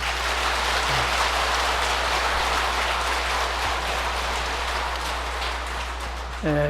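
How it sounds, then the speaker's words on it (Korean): An audience at a Buddhist bodhisattva-precepts lecture applauds in a steady, dense wash of clapping that fills the whole stretch without a break, with no speech over it. "크게 박수 한번 더 치시죠"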